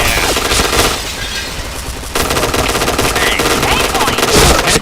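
Video game gunfire in a multiplayer match: loud, continuous rapid machine-gun bursts filling the whole stretch, close and dense, with a brief dip in intensity partway through.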